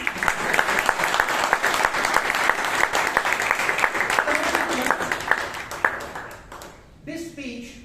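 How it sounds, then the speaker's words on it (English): An audience applauds after a humorous speech at a Toastmasters club meeting in Bangalore. The clapping is loud and sustained for several seconds, then thins out, and a voice begins speaking as it dies away. "you can clap now"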